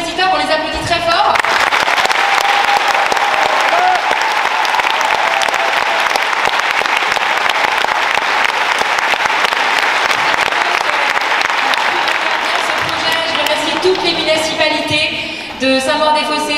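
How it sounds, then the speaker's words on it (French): At a piano orchestra concert, the audience gives long, loud, sustained applause for four composers, a thick roar of clapping that holds for many seconds, with a voice speaking briefly at the start and end. "Merci aux quatre compositeurs, on les applaudit très fort."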